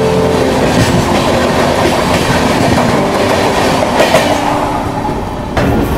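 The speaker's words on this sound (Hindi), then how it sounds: "ये जो आप ट्रेन देख रहे हो ना, ये है उदयपुर सिटी पाटलिपुत्र हमसफ़र" The Udaipur City–Patliputra Humsafar Express rolls past in India, a loud, steady roar of railcars with rhythmic clickety-clack over the rails and faint wheel squeal, close and continuous throughout.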